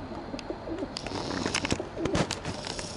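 Pigeons cooing outdoors, soft repeated coos mixed with chirps and light rustling, fairly close and moderate in level with no talking.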